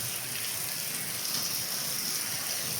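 Steady rain falls on a road running between fields, a soft even patter and hiss heard up close with no voices.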